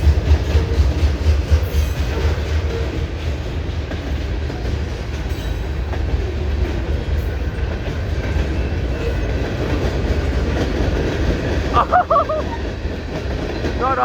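A CN freight train with black hopper cars rolls past close by in a loud, continuous rumble with wheel clatter and a brief squeal near the end, and a voice speaks faintly under it.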